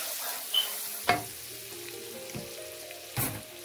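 Spices stirred into frying potol and potato bhaji, a steady oily sizzle with a few sharp spatula knocks and scrapes against the pan, close and moderately loud.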